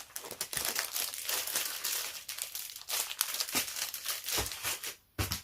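Packing paper crinkles and rustles while an Epson C5210DW sublimation printer is unpacked, close and continuous crumpling with sharp crackles, ending in a short pause and a final rustle.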